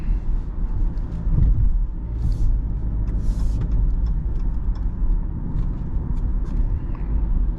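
A 2023 Jeep Cherokee Altitude 4X4 cruises on the road, heard from inside the cabin as a steady, low tire and engine rumble with faint road noise and no talking.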